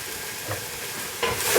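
Vegetables with cayenne and nutmeg sauteing in a pot for a butternut squash soup, heard as a soft sizzle with a brief scrape of stirring near the end, close and fairly loud.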